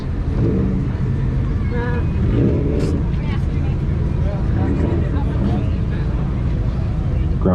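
A turbocharged 2005 Subaru Outback wagon with gold wheels revs its exhaust at a car meet exhaust competition, a loud, rumbling engine roar rising and falling repeatedly while people talk nearby.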